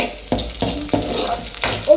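Ginger and garlic frying in a pan, a close sizzle broken by several sharp stirring scrapes spaced roughly every third of a second, with no speech.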